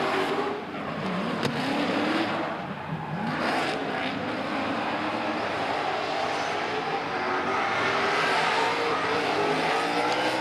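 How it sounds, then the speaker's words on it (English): A drift car run by a professional team at a Tauranga round of the D1NZ championship screams at high revs on track, its engine pitch sweeping up and down continuously and loud, close by, with no talk over it. "Jace Brown out on track now in the Baypark Tyres machine. And listen to it scream"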